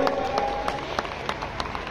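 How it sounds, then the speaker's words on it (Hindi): Audience applause at the UP T20 League cricket opening ceremony, a steady wash of crowd clapping with scattered sharper claps, and a faint voice and crowd murmur underneath. "जोरदार ताली बजाएं एवरीबॉडी"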